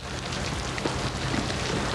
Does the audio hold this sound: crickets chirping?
no